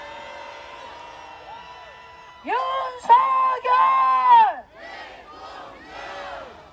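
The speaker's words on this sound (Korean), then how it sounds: "함성 발사! 소리 질러!" A crowd at an anti-impeachment rally outside the Corruption Investigation Office in Korea shouts a loud, rhythmic name chant in several bursts, voices yelling together close by after a quieter stretch of background noise.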